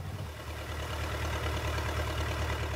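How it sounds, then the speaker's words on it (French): Diesel engines pumping earth into sieves at an Amazon gold-mining site in Brazil, a steady, loud, low mechanical drone with a rapid, even throb that keeps running throughout. "Les moteurs diesel pompent la terre dans des tamis de réception"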